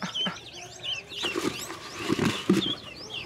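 Bursts of pigeon wings flapping close by on a house rooftop, several quick fluttering flurries, with bird chirps and soft coos around them.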